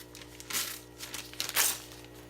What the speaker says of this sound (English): I'm just going to cut the corner off the bag.